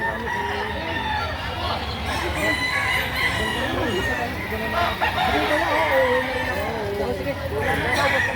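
Rooster calls and clucking run throughout over a busy background of overlapping voices at a Saturday chicken market in Lipa City, Batangas, with fowl sounds fairly close.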